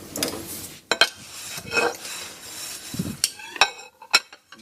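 Pots, pans and dishes being shifted and stacked in a household kitchen, with metallic clinks, scrapes and clanks coming in irregular bursts close by, and no talking.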